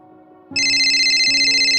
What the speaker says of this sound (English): I received the phone call